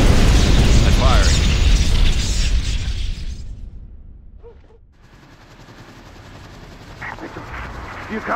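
Called-in fire support strike in Ghost Recon Advanced Warfighter 2: a dense roar of explosions and gunfire that cuts out abruptly into a near-silent lull, followed by faint rumbling and distant noise, with voices over the early part.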